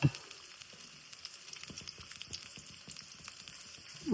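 Onion fries in a pan for a moringa drumstick-leaf soup, giving a soft, steady sizzle dotted with fine crackles and pops, close and fairly quiet, with no one talking.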